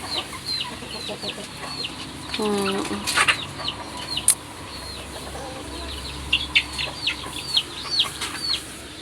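Chickens cluck and squawk inside a coop while straw or bedding is laid down, with a loud burst of calls and flapping near the middle and steady background clucking throughout; a brief murmur of voice is heard.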